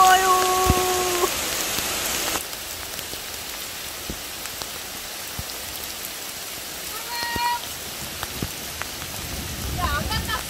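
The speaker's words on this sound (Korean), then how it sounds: "비가 너무 많이 와요." Heavy rain pours steadily near a waterfall at Ganhyeon climbing crag, a dense constant hiss broken by a few sharp tones and knocks, with faint voices at moments.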